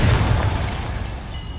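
A Confringo blasting spell explodes in Hogwarts Legacy, a short, loud, deep boom that fades quickly into a rumbling tail.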